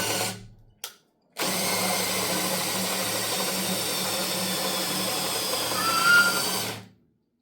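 A cordless drill whirs at high speed after a couple of brief stop-start bursts, then runs steadily for several seconds before cutting off, near and loud during archery bow tuning work.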